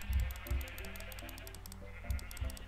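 Sheep bleat while being sheared in Minecraft, several short wavering bleats in quick succession, close and clear, with a few soft thumps underneath.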